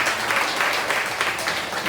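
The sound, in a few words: audience applause at a comedy show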